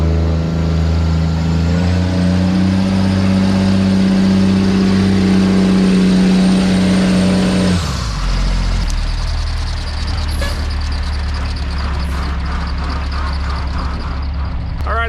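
An Oshkosh 7-ton truck running dual tires, twelve in all, grinds up a steep dirt hill with a loud, heavy engine drone that holds steady, then drops and turns rougher midway, with scattered knocks as the truck digs in.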